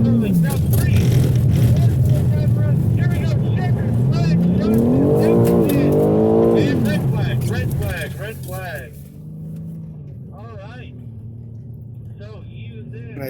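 A car accelerates hard on a wet skid pad and swings around, its engine droning loudly and rising and falling in pitch before easing off to a lower idle, with talk running over it.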